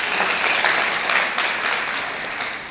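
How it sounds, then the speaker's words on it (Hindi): A roomful of people bursts into loud, sustained clapping in a biodiversity quiz session, steady and dense, fading slightly toward the end. "और कोई ताली बजा दे जोर से एक बार सभी"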